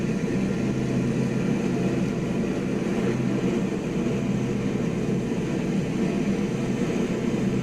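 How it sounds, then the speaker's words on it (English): World War II-era fighter plane diving at full speed on a 1941 flight-sim server, a loud steady engine drone with constant wind roar and no breaks. "I am diving for Hawkinge. I'm going to take this plane as fast as it'll carry me."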